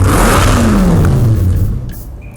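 A 6.0-liter V12 car engine in Need for Speed Hot Pursuit revs loudly, its pitch sweeping downward as it shifts, then dropping off toward the end, heard alone with no talk.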